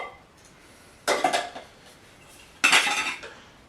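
A lightweight 750 ml titanium camping pot being handled, giving two short bursts of metallic clinking and rattling about a second and a half apart, close by in a quiet room.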